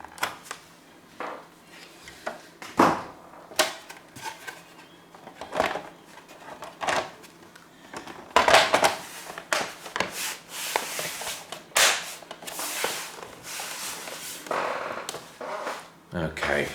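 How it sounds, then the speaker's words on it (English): Thumb screws being driven into a Sony SDM-S51 TFT computer monitor during repair, giving intermittent scraping, rubbing creaks in short bursts, close up with light handling noise between. "So trying to get these thumb screws in, they sound like a medieval torture"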